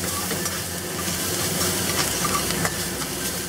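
Pickled mustard greens, ginger, garlic and shallots being stirred in a hot wok, a steady close sizzle with scraping spatula strokes running throughout, no voices.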